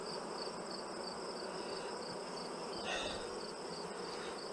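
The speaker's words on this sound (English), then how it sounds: "There were so many bees." Dense swarm of honey bees buzzing at full hive colonies during a September honey pull, a continuous close, even drone with a steady high hum and no pauses.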